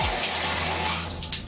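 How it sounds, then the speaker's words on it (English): Water pours steadily from a bathtub shower faucet after a valve replacement, a close, continuous splashing rush that holds for the whole short moment with no talking. "The water is currently on."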